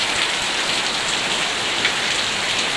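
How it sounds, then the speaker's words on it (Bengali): Heavy, steady rain pours down continuously, a dense hiss of drops drumming on surfaces with no letup and no voices. "ভীষণ বৃষ্টি হচ্ছে"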